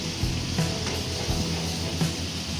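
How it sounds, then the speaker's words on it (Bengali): Mixed vegetables coated in salt, sugar, chili, coriander, cumin and kitchen king masala fry in a pan, giving a steady close sizzle with faint stirring scrapes underneath. "এবার এগুলোকে ভালো করে দিয়ে ফ্রাই করা হচ্ছে"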